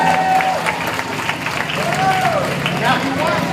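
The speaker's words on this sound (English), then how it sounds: "Give him a round of applause, guys." Festival spectators clap for James, an alligator wrestler at an American Indian Day event. The applause is dense and sustained, and loud talk carries over it throughout.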